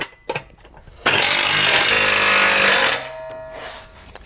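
A power driver runs a bolt tight with a 9/16 socket during assembly of a MicroSport Overland tent trailer. The run is a loud, steady rattling buzz of about two seconds, with a few short clicks before and after it.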